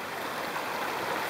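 A flowing stream along a hiking trail, a steady, soft broadband rush of water with no voices, continuous and fairly even for the whole short stretch.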